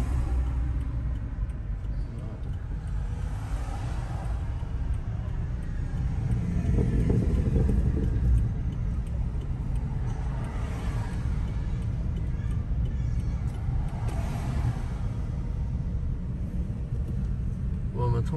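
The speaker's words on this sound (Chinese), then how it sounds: "车明显很多了。" Car traffic on the streets of Los Angeles Chinatown, a continuous low rumble of passing vehicles with swells as cars go by, heard under a person talking.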